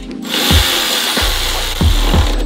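Bolts on a Ford Focus RS crash bar mount, 24 mm with lock washers, are snugged down with a power tool: a continuous whirring drive broken by four sharp impact thumps, close and loud, with no talk.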